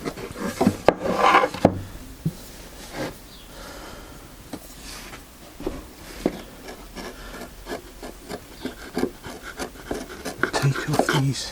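A freshly sharpened chisel paring away loose wood fibres on a tenon, giving close, scraping rasps in short irregular strokes with brief taps between them.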